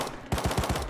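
An LR rifle fires in the video game Rust: a quick burst of about four or five close, punchy shots in a rapid even rhythm after a short quiet moment.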